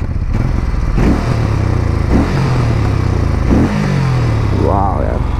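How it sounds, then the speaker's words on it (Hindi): A Moto Guzzi California motorcycle idles with a loud, deep exhaust rumble and is revved several times in short bursts, each throttle blip rising and falling close by. "आप लोगों को एग्जॉस्ट सुना देता हूँ।"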